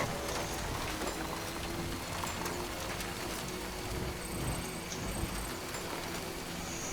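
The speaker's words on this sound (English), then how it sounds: "kind of odd that it's raining over here." Dense, steady rainfall in the video game Death Stranding, a constant hiss of drops pattering on surfaces with no talk over it.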